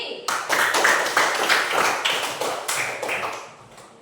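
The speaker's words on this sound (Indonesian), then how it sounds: "tepuk tangan buat Yanti" Students clapping for a classmate in a classroom, a short burst of brisk applause with distinct individual claps, close and lively, fading out over a few seconds.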